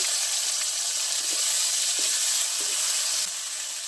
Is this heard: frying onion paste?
yes